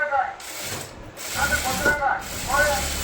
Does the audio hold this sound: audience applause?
no